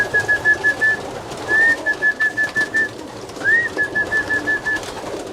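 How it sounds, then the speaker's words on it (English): Pigeons coo in repeated soft, throaty phrases, three bursts of pulsing calls close by, with no talking. "look at this pigeon"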